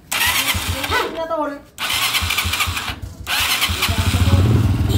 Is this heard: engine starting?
yes